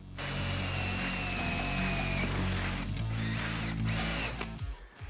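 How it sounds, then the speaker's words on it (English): A cordless drill with a hole saw cuts a second hole for a homemade dust collector built from household items. It grinds loudly and continuously at close range for about four and a half seconds, then winds down. "And we'll drill our second one."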